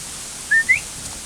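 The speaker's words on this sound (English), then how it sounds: "I think you can still hear a whistle" A short two-part whistle, two quick rising tones close together, rings out over a steady background rush near a small waterfall outside Brodick on the Isle of Arran.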